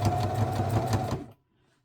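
Sewing machine stitching a costume cape, a steady fast mechanical whir running close and loud for just over a second before stopping abruptly into quiet.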